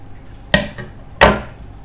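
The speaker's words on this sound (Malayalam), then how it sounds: "ഇനി നമ്മൾ ഇവിടെ കട്ട് ചെയ്ത് കൊടുക്കുക." Two sharp cuts while making a homemade face mask at home, each a crisp snip-like chop about half a second apart followed by a softer trailing sound, close and alone with no talk.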